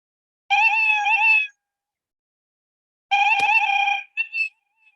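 Two cat meows from a kids' coding project play one after another with a pause between, each long and clear, the second followed by a short chirpy tail, loud and close against silence.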